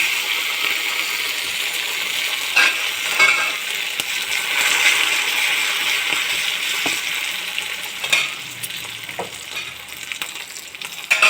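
Green chillies and curry leaves fry in a hot oil tempering for curd rice, with a steady crackling sizzle and occasional spoon clinks against the pan; there is no speech.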